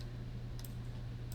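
A computer mouse clicks twice, with short faint taps about a second apart, while a file is dragged, over a low steady hum.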